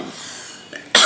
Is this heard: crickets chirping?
no